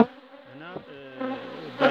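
A dense swarm of honeybees buzzes at a beehive, a loud, continuous layered hum close up, swelling slightly toward the end.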